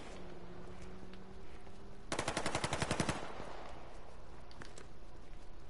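Gunfire in a video game shootout: a single rapid automatic burst of about a second, mid-distance against a steady low background, with no talk.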